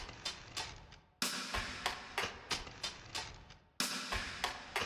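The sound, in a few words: rim shot over background loop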